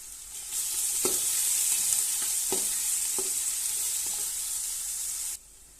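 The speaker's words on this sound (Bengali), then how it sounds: "পেঁয়াজটা দিয়ে নিচ্ছি, পেঁয়াজটা সুন্দর করে কষায় নিব।" Onion fries with garlic and ginger in a pan as a loud, continuous sizzle, broken by a few spoon-against-pan clicks while stirring. The hiss cuts off abruptly near the end, and no voice is heard.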